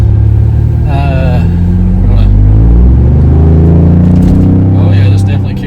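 A Ford Bronco with a K&N intake upgrade cruises along, its engine droning in a loud steady low rumble inside the cabin while people talk over it.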